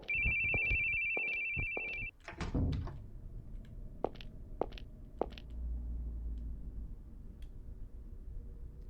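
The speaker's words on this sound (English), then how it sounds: "His cell phone." A cell phone in a video game rings with a steady electronic tone for about two seconds, followed by a thump and several scattered sharp knocks against a low background rumble.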